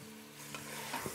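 Mutton frying with ginger garlic paste in a 6-quart Instant Pot, a close, steady sizzle with a low hum and a few soft scraping stir noises, no talking.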